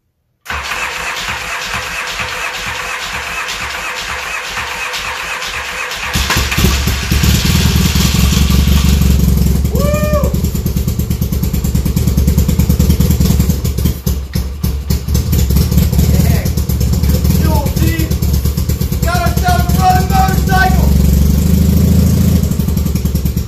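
A Yamaha XS650 chopper motorcycle cranks on its starter for several seconds, then catches and runs loud and close with a rough, uneven idle and a few revs.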